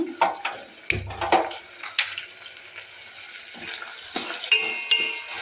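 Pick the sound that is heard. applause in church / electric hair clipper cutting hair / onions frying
onions frying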